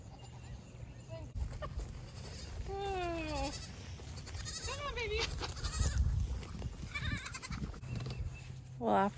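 Several goats bleat in their new pen at the back of a property, wavering calls repeating close by over a steady low rumble of wind or handling noise, with a short loud bleat at the end.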